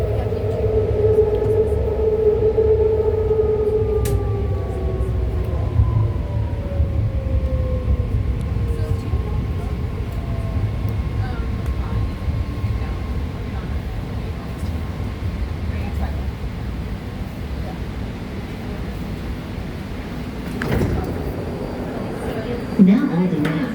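A BART Green Line train bound for Berryessa pulls into San Leandro station, with a low rumble and falling whines as it slows, and a clunk near the end.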